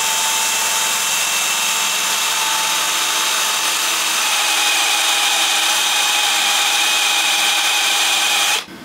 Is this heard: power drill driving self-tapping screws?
yes